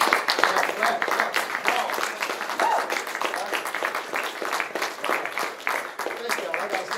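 An audience at a motivational talk claps in a dense, sustained burst throughout, a crackling wash of many hands, with a voice speaking over it.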